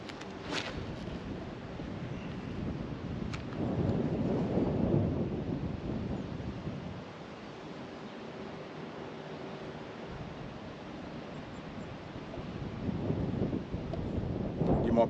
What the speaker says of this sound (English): You might probably hear the wind in the background.